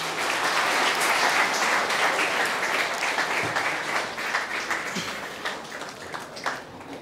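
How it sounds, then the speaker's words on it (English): An audience at a mentalist and mind reader show gives a big round of applause, loud and dense at first, then gradually thinning and tapering off. "all these great people will give you the hugest round of applause."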